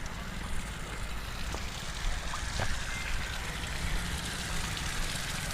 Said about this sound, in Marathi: ही पाईपलाईन आहे बघा पाणी पुरवठा होतोय बघा